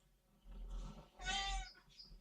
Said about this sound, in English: we've got Lucy the cat here